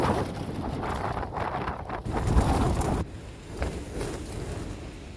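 Storm Ashley's wind roars and buffets a Helm 1 tent at a Blea Tarn wild camp: loud, continuous gusting rumble and hiss with no voices, easing somewhat after a sharp drop midway.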